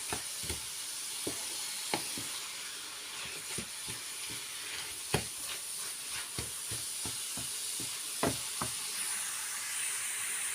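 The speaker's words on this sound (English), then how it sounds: "Let's allow this to fry for 5 minutes." Meat pie filling of minced meat frying in a pan, a steady soft hiss broken by scattered sharp pops and crackles, close and alone with no talking.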